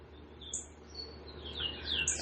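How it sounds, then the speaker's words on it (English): A bird chirps in a few faint, high, short calls against a quiet, steady background hum. "That bird."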